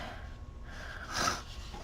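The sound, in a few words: sniffling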